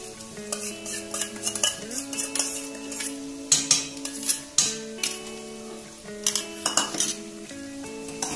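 A metal spoon stirs a yogurt masala with cluster beans in a pot, making repeated clinks and scrapes against the metal in uneven bursts over a soft bubbling sizzle, with no voices.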